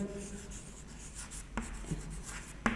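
Chalk or marker scratching on a board during a maths lecture on number systems, soft continuous strokes with a few sharper taps, close and quiet with no talking.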